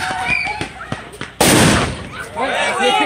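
A sudden loud firework rocket burst cracks out after scattered voices and pops, followed by crackling and excited chatter at a Christmas street celebration.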